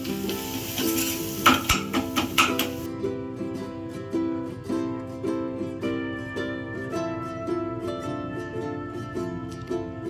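Food sizzles gently in sesame oil in a pan while a utensil stirs and scrapes in an irregular rhythm, with no talking.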